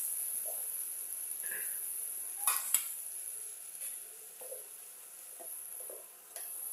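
Vegetables fry in oil with a thin, steady sizzle, and a utensil gives occasional soft scrapes and a few light clinks against the pan, all quiet and close.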